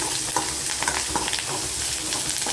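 Onions frying in a pan with salt, a loud, continuous sizzle broken by quick stirring scrapes, with no talking over it.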